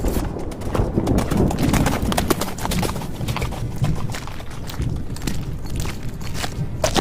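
Horse hooves clip-clop steadily and close, a dense run of hoof strikes with occasional snorting and faint background voices.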